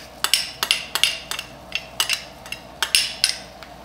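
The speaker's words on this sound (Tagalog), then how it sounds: "Tapos haluin lang natin ito." A utensil stirs garlic into a sauce in a pot, making a series of sharp metallic clinks and scrapes in an uneven rhythm, about a dozen strikes, close and without talk.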